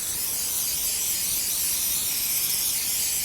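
A steady, close hiss of spraying as a can of no-pin basting spray is applied across the top of quilt batting, continuous and even throughout with no voices.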